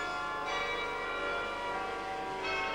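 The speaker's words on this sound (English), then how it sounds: "the beautiful chimes of Ieper chime that war is history" Church bells in Ieper, Belgium, ring out in a sustained, resonant chime, loud and continuous with overlapping tones swelling and fading, with no talking.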